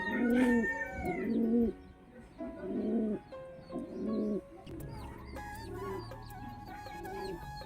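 Pigeons in a loft, a pair among them, give several clear, repeated throaty coos close by, rising and falling in a steady rhythm, with a few fainter calls and rustles behind them.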